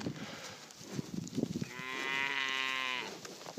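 Beefmaster and Braford beef cows on a ranch, one giving a long, loud, close moo that rises and holds before fading, with quieter rustling and faint cattle sounds beforehand.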